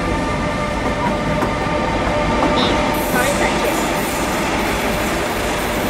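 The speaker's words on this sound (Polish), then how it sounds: "Ale te odgłosy tak jak w prawdziwym pociągu." Train sounds in a video game form a steady rolling rumble with faint clicking of wheels, continuous and fairly loud, while a voice speaks briefly over it.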